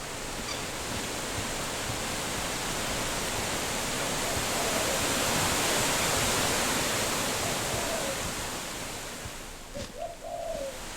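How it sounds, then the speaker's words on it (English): Waterfall ambience in an Unreal Engine game scene, a steady broadband rush of falling water that swells slightly in the middle, with faint bird-like chirps near the end. "got the tiny little wind, and then as it slowly picks up, going towards the waterfall"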